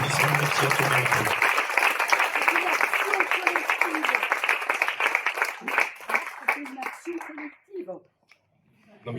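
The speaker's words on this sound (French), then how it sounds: "je pense qu'elle mérite des applaudissements" An audience applauds with sustained clapping that gradually thins out and fades to scattered claps and near silence.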